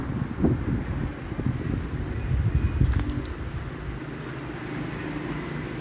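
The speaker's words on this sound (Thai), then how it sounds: "โอ้โหลมแรงมาก" Strong wind blows outdoors and buffets the microphone in a continuous low roar that swells in gusts, with a brief faint clatter midway.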